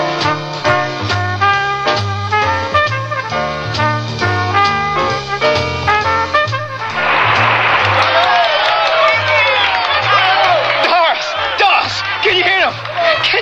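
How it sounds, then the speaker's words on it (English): At a London concert, music plays for several seconds and then gives way to a loud wash of crowd applause and cheering, with whoops and shouts that carry on to the end. "Can you hear that applause?"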